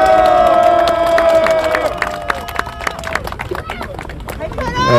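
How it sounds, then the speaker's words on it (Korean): A crowd at a citizens' group rally about a fair-election complaint bursts into loud clapping and cheering, with raised voices and shouts over a dense, continuous roar of applause that eases slightly toward the end. "박수!"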